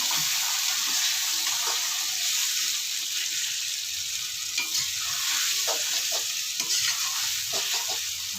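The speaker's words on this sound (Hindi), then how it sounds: "थोड़ा सा हम इसमें जीरा डाल देते हैं। इसके अंदर से अच्छे तरीके से भुनाई।" Cumin seeds fry in hot oil in a pan for a dahi aloo masala, giving a loud, steady sizzle with occasional scrapes of a spoon stirring.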